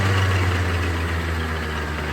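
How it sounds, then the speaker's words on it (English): A Honda Zuma scooter engine idles a little high in cold weather, a steady close-up low putter with a firm rhythmic drone and no speech. "it is kind of idling a little high"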